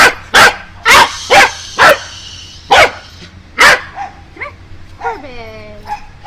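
A show dog barks loudly and close, about seven sharp barks in an irregular series, then trails off into a few whines and yips at the end.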